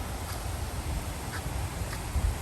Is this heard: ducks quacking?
yes